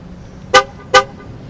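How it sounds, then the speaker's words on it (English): A 2013 Dodge Ram Laramie pickup truck sounds its horn as its air suspension reaches its lowest level: two short, loud honks about half a second apart, close and clear, with no talk. "the truck will honk when it is at its lowest point"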